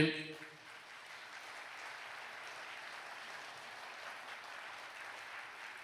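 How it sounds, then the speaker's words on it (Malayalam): Audience at a Malayalam religious talk clapping together, a steady dense wash of applause held for several seconds after a brief voice at the start, fairly faint and roomy. "ഒന്ന് കൈ ഉയർത്തി കൈയടിച്ചേ."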